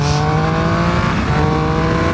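A Triumph Speed Triple 1200 RS motorcycle engine revs hard and continuously, its loud, steady exhaust drone holding throughout with a brief bright surge at the start.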